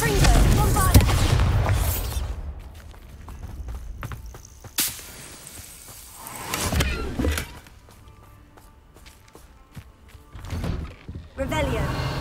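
Spell blasts from Confringo and Bombarda in the Hogwarts Legacy video game, loud bursting impacts at intervals with crackling debris between them, and a voice calling out the spells.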